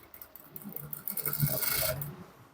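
A sewing machine stitches through Ankara fabric for pants in short, faint whirring bursts that build into a longer steady run.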